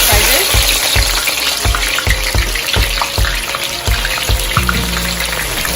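Onions frying in hot oil for jollof rice with beans, a loud, steady, close sizzle with a broadband hiss, regular scraping taps from stirring, and a brief clatter near the end.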